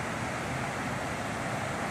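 The River Lignon rushes over a small waterfall, a dense, continuous broadband roar of churning water, steady and fairly close with no talking.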